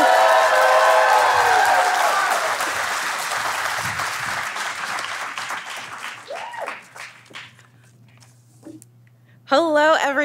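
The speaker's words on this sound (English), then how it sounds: "make the biggest, most boisterous round of applause that you can" A conference crowd at Design in 7 bursts into loud applause and cheering for the first speaker, the clapping dense at first, then thinning and fading until a voice begins speaking at the end.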